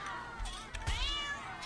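A cartoon cat meows in South Park: The Stick of Truth, with a couple of close, rising and falling mewing calls over a low game background.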